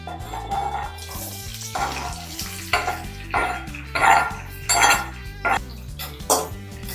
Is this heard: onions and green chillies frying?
yes